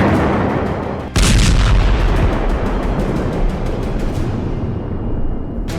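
Heavy bombardment in Gaza: continuous loud blasts and rumbling explosions, with a sharp heavy impact after about a second followed by sustained booming and crackling, no voices.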